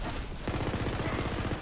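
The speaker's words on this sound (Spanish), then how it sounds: "Mis disparos no van de aviso." Rapid automatic gunfire in the video game Tiny Tina's Wonderlands, a dense run of close, evenly spaced shots that begins after a brief lull and keeps going steadily.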